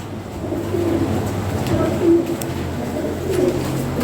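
Fancy pigeons for sale coo softly with low, repeated throaty calls over a steady background hum.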